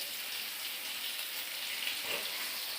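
Pieces of hilsa fish frying in hot oil, a steady bright crackling sizzle, close and constant, with no talking.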